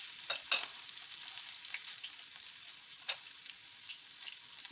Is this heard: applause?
no